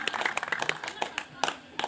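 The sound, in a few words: audience clapping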